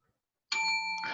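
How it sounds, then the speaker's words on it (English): A little bell rung to flag a crutch word at a Toastmasters meeting, one single bright ding ringing on for under a second after silence. "When you hear that, you hear a little bell."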